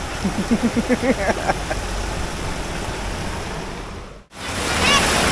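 Ocean surf breaks and washes steadily onto a shore in a broad, roaring rush with wind buffeting the microphone; a brief dropout near the end precedes another loud surge, and a voice calls out faintly at the start.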